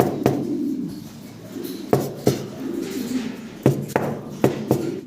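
A pair of White Bar pigeons in a cage, frightened, give low cooing murmurs, with sharp wing flaps or cage knocks breaking in every second or so at close range.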